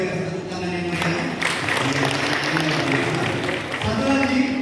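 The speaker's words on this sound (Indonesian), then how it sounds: "tepuk tangan yang meriah" An audience at a BKKBN East Java event in Jember gives lively applause. The clapping is dense and continuous, with voices and crowd noise mixed in throughout.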